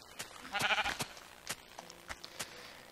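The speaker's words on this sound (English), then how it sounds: "I'm killing some pigs, or sheep, whatever these are." Sheep in Minecraft bleat in a short wavering burst, loud and near, surrounded by soft thuds and clicks of game actions, with no talking during the sounds.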